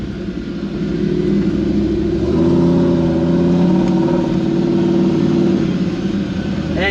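A Toyota with a four-speed automatic gearbox revs and shifts, the engine note rising into a steady mid-pitched drone and holding close and loud through the change.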